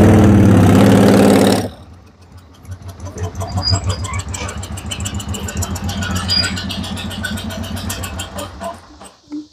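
Custom-built 1958 Cushman Eagle trike scooter engine running loud and close, a steady rumbling idle with uneven pulsing revs, following a brief burst of talk at the start.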